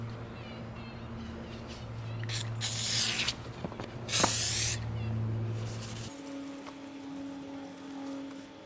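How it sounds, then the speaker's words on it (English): WD-40 sprayed onto a car bumper to lift a tire scuff: two short hissing bursts of aerosol spray close by over a quiet outdoor background hum. "Before I try the rubbing compound, let's see if the WD-40 will remove that."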